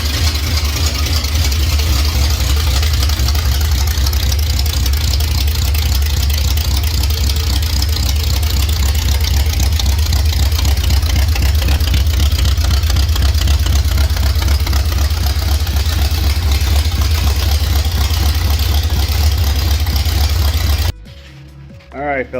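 A car engine running and idling close by, a loud steady low rumble with a rough mechanical clatter, continuous for about twenty seconds before cutting off abruptly.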